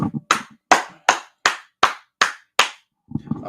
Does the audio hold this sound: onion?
no